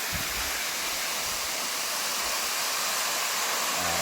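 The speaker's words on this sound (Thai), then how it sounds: "ฟังเสียงน้ำตก" A waterfall in Thong Pha Phum, Thailand, roars steadily, a thick, constant rush of falling water with no pauses and no voices.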